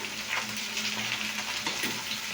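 Chili powder, turmeric and ginger-garlic paste being stirred in a frying pan, with a steady close sizzle and soft scraping of the spoon running continuously.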